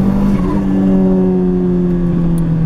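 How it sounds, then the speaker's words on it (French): A Fiat Seicento engine revs hard at full throttle, a loud, steady close-up drone that holds for a few seconds with a slowly shifting pitch, with no voices. "là, je mets le pied à fond"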